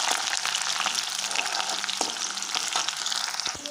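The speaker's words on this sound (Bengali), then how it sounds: "এতিয়া আমি তেজপাত দুটা দি দিছো, পিঁয়াজখিনি দি দিছো, রঙচুৱা নহলৈকে ভাজি থাকিব লাগিব" Onions and two bay leaves fry in hot oil, giving a continuous close sizzle and crackle, with a few sharp stirring clicks and scrapes from the pan.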